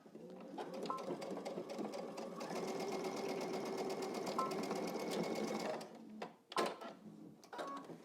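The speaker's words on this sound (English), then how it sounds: "we're going to stitch all the way up," A sewing machine stitches up the front of a pair of pants in one steady, rapid whirr of needle strokes, then stops and leaves a few clicks and handling noises.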